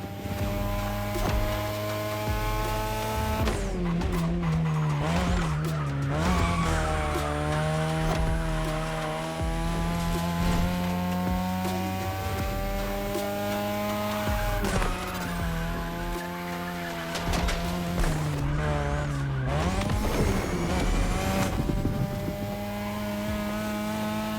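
Cars racing on a mountain touge road in The Crew Motorfest: loud revving engines with rising and falling pitch through gear changes, tire squeal and skidding in corners, continuous and close, no speech.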